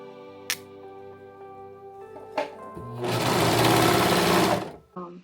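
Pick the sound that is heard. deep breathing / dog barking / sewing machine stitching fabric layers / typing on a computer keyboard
sewing machine stitching fabric layers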